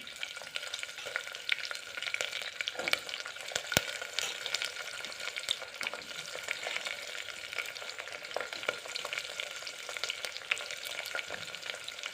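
Chopped onion, green chillies, chana dal and cumin fry in a pan for a cucumber palya, making a continuous crackling sizzle with scattered stirring taps throughout and no voices.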